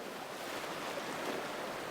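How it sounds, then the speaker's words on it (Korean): Gentle sea waves break against coastal rocks on the Jeju shoreline, a steady, close, continuous wash of surf and foam with no voices. "잔잔한 파도가 해안까지 밀려와 하얀 포마를 일으키며 바위에 부서져 내립니다"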